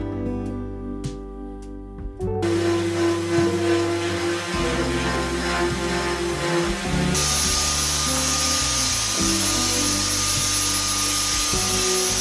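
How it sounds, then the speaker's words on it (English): An electric sander works a kitchen countertop, a steady whirring buzz that starts after a few seconds and grinds on continuously, growing harsher partway through, with no talking. "I went for my electric sander."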